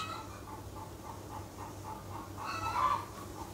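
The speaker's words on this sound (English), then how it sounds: "Can you hear the chickens in the background?" Faint, distant hens cluck in a soft repeating rhythm beneath low background hum, growing slightly louder toward the end.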